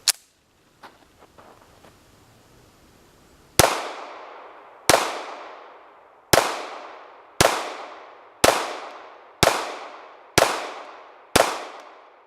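A 1915 DWM P.08 Luger pistol fires eight sharp, loud shots at an outdoor target about 25 feet away, evenly spaced around a second apart, each ringing out with a decaying echo, after a few quiet handling clicks.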